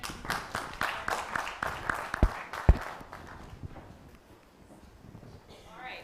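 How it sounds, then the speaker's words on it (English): Audience at a university distinguished lecture applauds panelists after a fireside chat, a short burst of scattered claps with a few sharp loud ones that thins out and fades, voices talking in the room. "please let's give a rounding applause to our panelists one more time"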